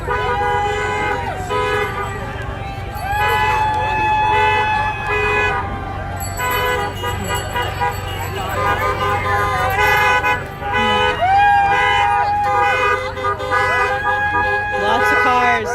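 At a street protest outside the governor's mansion, cars pass in a steady stream while horns toot and honk repeatedly, loud and close, with voices talking over the traffic.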